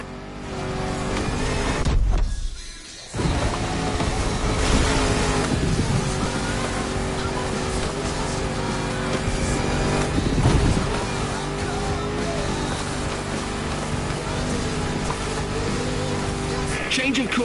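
A 400-horsepower Defender under a 70-year-old bonnet drones steadily at speed in The Crew Motorfest, its engine tone holding constant with a short dip early on while a voice talks over it.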